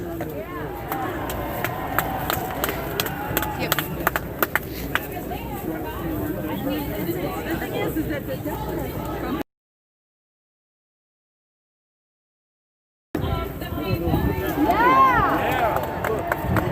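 Dense crowd at a Stop the Steal rally in Washington DC, a steady hubbub of many voices and shuffling footsteps close around, with a brief dropout of total silence before the noisy babble resumes.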